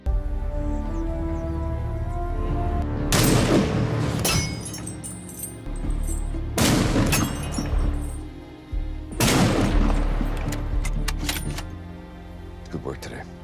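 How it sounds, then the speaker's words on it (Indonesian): Sniper rifle shots from shooting practice in an action film ring out three times at spaced intervals, each a sharp loud crack with a trailing echo, while a narrator talks over the scene. "Jondi tengah berlatih menembak dengan dipandu oleh Brandon dan inilah hasilnya"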